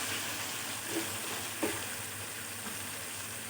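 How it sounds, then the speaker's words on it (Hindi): Chicken fries in a masala of cooked-down tomatoes in a pot with a steady, even sizzle and hiss. A faint clink or two from stirring rises above it, close and continuous. "चिकन को अच्छी तरह भूनेंगे"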